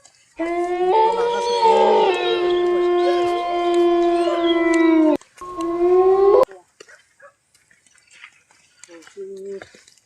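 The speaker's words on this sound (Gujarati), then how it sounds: "હા હા કૂતરો છે ભાઈ" A dog howls nearby in long, drawn-out wails, breaking off, then a shorter howl and a faint whimper follow in the quiet.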